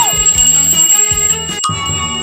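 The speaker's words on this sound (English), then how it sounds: "What a cool bell." A bell rings with a bright sustained tone that lingers through the moment, with a soft low thump partway through and no talking.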